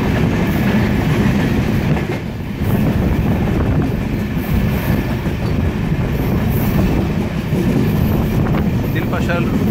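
The Ekota intercity train rumbles past Dilpasha station in Bangladesh, a loud, continuous roar of wheels and carriages with rhythmic clatter heard from on board, a voice talking underneath.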